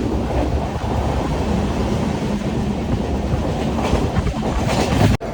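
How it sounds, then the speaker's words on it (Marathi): Loud steady rumble inside a moving passenger train near Lonavala, with continuous wheel and carriage noise, faint rhythmic clatter and wind buffeting close to the microphone, and no voices. "ट्रेनचा आवाज जाम येत असेल"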